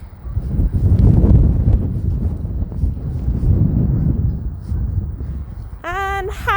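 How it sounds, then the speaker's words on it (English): Gusty wind buffets the microphone during a sunny, extremely cold winter walk in downtown Calgary, a loud low rumble that rises and falls throughout, with a short high chirping sound at the very end. "It's pretty windy today."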